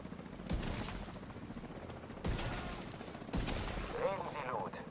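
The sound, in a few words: helicopter and gunfire in video game The Division 2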